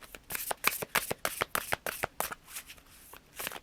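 Tarot cards being shuffled by hand, a quick series of crisp riffling flutters and soft slaps in an irregular rhythm, close and fairly quiet, with a short pause near the end before a final riffle.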